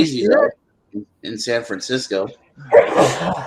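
A person lets out a sharp, close sneeze, with a short one at the very start and a fuller burst near the end, between stretches of casual talking.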